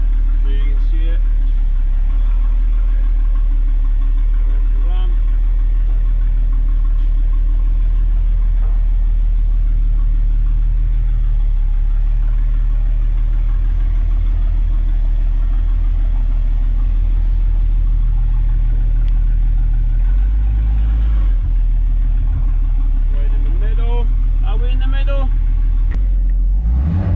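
A Bentley Continental W12, built from two VR6 engines on a common crank and fitted with downpipes and catalytic converters, idles with a steady deep rumble throughout, close and loud, with a brief dip and a few rev blips near the end.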